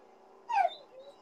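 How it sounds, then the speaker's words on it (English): A dog shut in a cage lets out one short whimpering yelp, close and fairly loud against a quiet background, with a faint trailing whine after it. "My dog's going crazy."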